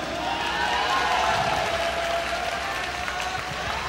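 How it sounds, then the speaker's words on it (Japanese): A crowd at a RISE World Series kickboxing event in Osaka applauds steadily and loudly, a dense wash of clapping that holds at an even level throughout. "今一度盛大な拍手をお願いします"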